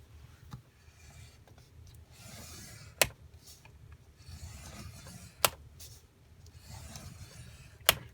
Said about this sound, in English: So I am going to score at 1/2 inch.